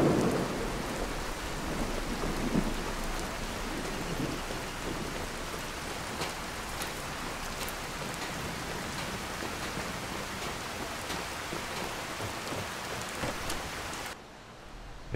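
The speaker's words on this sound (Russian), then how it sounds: "Не хочу я в дождь никуда идти." Steady rain hisses down in Skyrim with thunder rumbling through, a dense, continuous wash of falling water that cuts off abruptly near the end.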